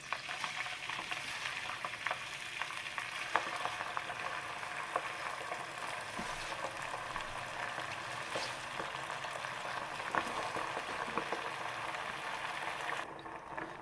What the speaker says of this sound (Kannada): ಈ ಗೋಂಗೂರ ಸೊಪ್ಪಿದೆಯಲ್ಲ, ಈ ಸೊಪ್ಪೆಲ್ಲನೇ ಇದರಲ್ಲಿ ಹಾಕ್ಕೊಂಡು ಫ್ರೈ ಮಾಡ್ಕೊಬೇಕು